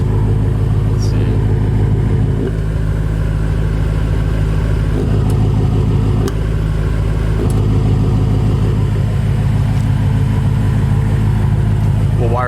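A 2017 BMW M6 F13 engine idles after a cold start through an aftermarket Meisterschaft GTC exhaust with the valves open, a loud, steady, deep rumble recorded close by, with light throttle swells.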